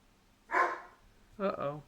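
The small dog Miss Keeks gives two short, separate barks about a second apart, close by and fairly loud in a quiet room.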